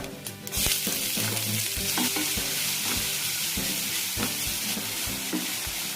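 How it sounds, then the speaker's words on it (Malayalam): Onion sautés in oil with cumin seeds and dried chilli for a spiced potato masala, giving a loud continuous sizzle broken by sharp, regular stirring clicks from a spoon against the pan. "ട്രാൻസ്പാരൻ്റ് ആകുന്നവരെ സവാള വഴറ്റിയെടുക്കാം."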